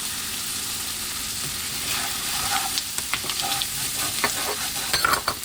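Sticky green beans sizzle and fry in a hot pan while being stirred, with a steady close hiss and scraping, clacking strokes of the utensil that grow more frequent toward the end.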